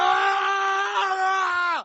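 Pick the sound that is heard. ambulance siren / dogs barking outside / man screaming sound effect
man screaming sound effect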